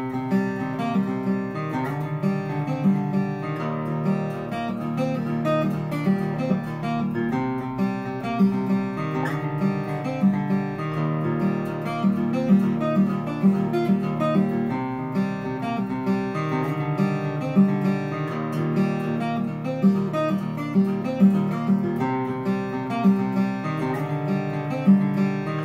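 Guitar playing the full bridge section of a song, a continuous stream of bright picked notes and pull-offs over ringing low open strings, steady and evenly loud throughout, close and solo with no voices.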